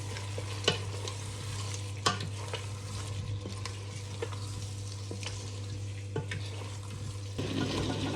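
Chicken liver frying in a pan with sautéed spices, a steady sizzle running throughout, punctuated by sharp scraping and stirring knocks at irregular intervals, close and moderately loud.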